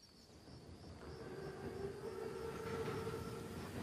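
An armored train in the Call of Duty WWII game rumbles steadily as it approaches, a broad low roar with faint whistling tones rising slightly over several seconds, with no voices.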